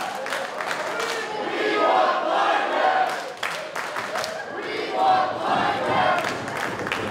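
A wrestling crowd cheers and chants in loud waves at a live indoor match, swelling and fading rhythmically with shouts rising above the roar.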